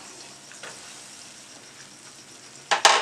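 A spoon stirs milk powder in a pan over a low flame. A soft, faint hiss is broken by a few light scrapes, then two louder, sharp scraping strokes come close at the end.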